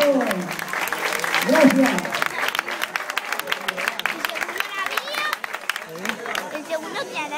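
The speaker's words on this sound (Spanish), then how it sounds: "Un aplauso para que cambie el nombre, por favor." Audience applause at a Spanish-language event, dense clapping from a crowd that swells early, then stays steady as someone speaks briefly over it.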